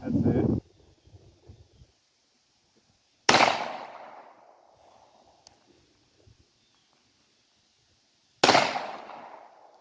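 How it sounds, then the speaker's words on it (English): Beretta M9-22 pistol firing Remington Golden Bullet .22 ammunition at an outdoor range, 100-yard targets: two sharp, loud reports spaced several seconds apart, each with a short fading tail, no speech between them. "Beretta M9-22, Remington Golden Bullet, 100 yards."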